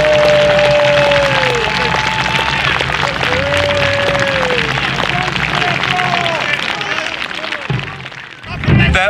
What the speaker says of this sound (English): how you get them up is give them a round of applause